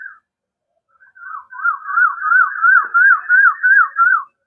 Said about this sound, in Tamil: இந்த சவுண்டு பாத்தீங்களா, குயில் சவுண்டு எவ்வளோ அற்புதமா இருக்கு.